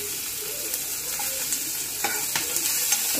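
Sliced capsicum and ginger frying in a pan for a cucumber dish, giving a steady, close sizzle with light stirring scrapes and a few soft clicks toward the end, no voices.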